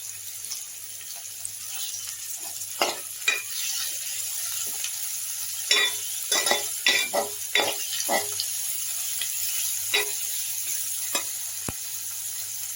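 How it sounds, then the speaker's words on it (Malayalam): Chopped tomatoes sizzle steadily in a hot pan while being stirred for a chicken roast, with a run of sharp, irregular scrapes and clatters of the spoon over the constant frying hiss. "അതും ചേർത്ത് നന്നായി വഴറ്റി കൊടുക്കാം"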